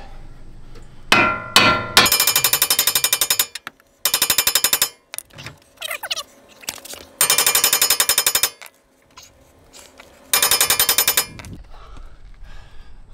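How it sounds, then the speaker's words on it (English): Repeated metal-on-metal hammer strikes on the flat side of a steel spindle on a Toyota Tacoma, breaking loose a tapered ball joint, in several rapid bursts, loud and close, ringing sharply with short pauses between volleys. "you're going to bang right here on this flat side of the spindle"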